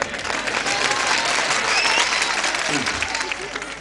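A crowd at a Hindi poetry performance claps continuously and densely together, with a voice speaking over the applause.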